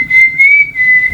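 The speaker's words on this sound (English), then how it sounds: "Whistle for us." A single clear, high whistled tone held steadily for about a second, rising and falling slightly, close and loud with no talking.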